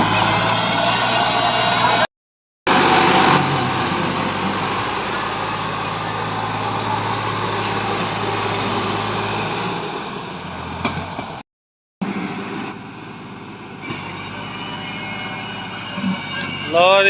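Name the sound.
Massey Ferguson 260 tractor engine running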